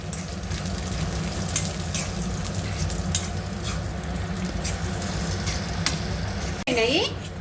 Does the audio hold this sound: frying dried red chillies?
yes